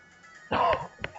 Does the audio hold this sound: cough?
yes